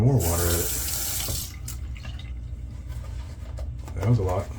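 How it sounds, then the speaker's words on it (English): Tap water splashes and runs steadily onto shaving soap lather in a sink, a continuous broadband pour lasting several seconds, with brief talk at the start and end. "I'm going to throw even more water at it."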